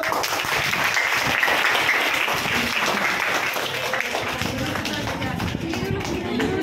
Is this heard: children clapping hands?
yes